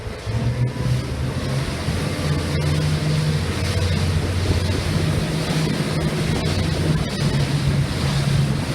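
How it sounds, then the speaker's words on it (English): A Moersen 282 motorboat engine drones steadily under loud rushing water and wind noise as the boat gets up on plane, the hull slapping through waves as it powers along. "I'm gonna jump the boat up on a plane"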